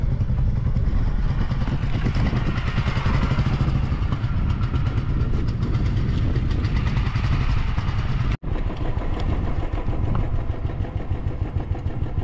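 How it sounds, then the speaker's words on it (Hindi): Royal Enfield Bullet motorcycle engine running steadily during a ride near a beach, a continuous loud low thump with clattery mechanical texture throughout and a brief dropout near the end. "अपन भी थोड़ा बुलेट पे घूम लेंगे, थोड़ा चक्कर मार लेंगे जरा आजू बाजू।"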